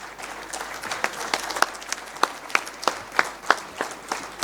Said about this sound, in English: I would request you to stand and give him a rising applause and welcome as he comes to address the gathering.